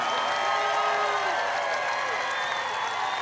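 Large campaign rally crowd applauding and cheering for Mike Lindell, a continuous dense roar with voices mixed in.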